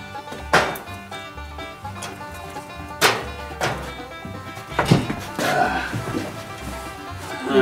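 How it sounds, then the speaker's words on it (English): Chunks of firewood are dropped onto a fire to stoke it: a few heavy, hollow wooden thunks land at uneven intervals close by, with quieter knocks and shuffling between them. "I'm going to put some more wood on that."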